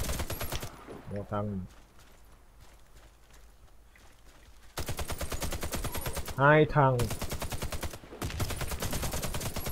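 Team deathmatch gunfire in Warface on PS4: loud rapid bursts of shots in two stretches around a quiet gap, with someone talking briefly over the shooting.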